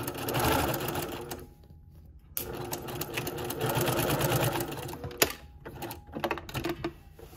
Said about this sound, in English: just continue sewing all the way to the end